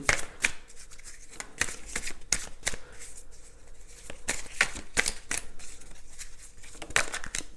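Tarot cards being shuffled and one drawn, a string of crisp, rapid riffling bursts and slaps repeating steadily up close, with no talking.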